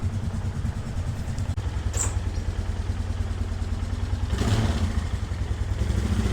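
A 2006 Polaris Sportsman 500 ATV engine runs near the listener with a steady, rough, clattering idle, switching into four-wheel drive, with a brief louder rev toward the end.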